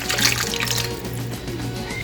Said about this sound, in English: We're gonna take the marinade and we're just gonna pour it on top.